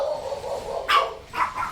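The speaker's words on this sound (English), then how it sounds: "I have no idea why my dogs are insane" Dogs bark in the video game Star Trek Online, with a couple of sharp, close yelps coming in bursts over a steady low game hum.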